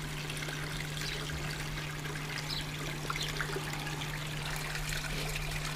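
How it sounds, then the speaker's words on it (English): Biological filters on a koi carp pond keep water trickling and splashing in a continuous wash, with a low steady pump hum running beneath it. "Here we see the biological filters working now"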